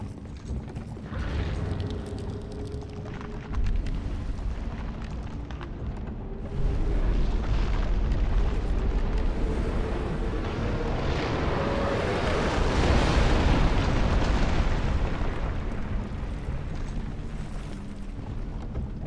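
A huge dragon attacks in Dark Souls 2, setting off a sustained roaring, rumbling blast of fire and explosion that swells and stays loud and dense throughout, with no voices.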